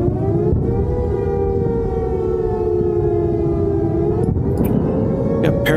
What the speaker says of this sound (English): All the sirens are just going absolute apeshit right now.